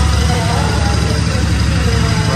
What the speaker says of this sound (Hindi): लो भाई स्टार्ट हो गई बाइक